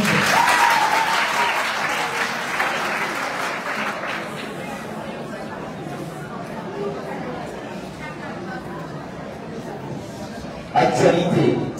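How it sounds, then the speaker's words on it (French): Debate audience applause, a loud burst of clapping that gradually thins over several seconds with chatter and laughter mixed in, then a brief renewed surge near the end. "Applaudissez s'il vous plaît."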